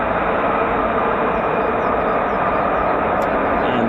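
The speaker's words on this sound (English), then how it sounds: "That sort of spooling sound you can hear are the compressor and turbines just spinning round" Pratt & Whitney F135 turbofan of an F-35 spooling at an RAF Lakenheath air base, a loud, steady broadband roar of compressor and turbines that holds unbroken throughout with a faint whine riding on top.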